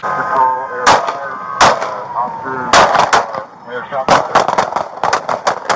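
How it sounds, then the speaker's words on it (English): Gunshots are fired at a vehicle during a police chase: sharp, loud bangs come singly and then in a rapid cluster near the end, with people talking between and under the shots. "Shots fired again. Shots fired at the vehicle."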